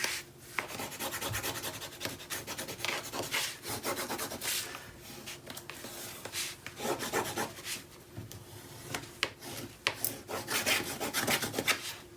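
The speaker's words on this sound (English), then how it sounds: "I need my bone folder so I can burnish this." Bone folder rubbed firmly back and forth over paper on a mini album base, a steady scraping rasp in repeated strokes, close and moderately loud with no talking.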